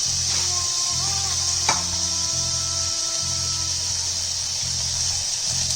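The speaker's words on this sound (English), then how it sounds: "fry it at high heat till it becomes a little translucent" Onions frying over high heat in a pan for a Kerala-style egg curry, a steady broadband sizzle that holds throughout, with a brief knock of the utensil partway through and no talking.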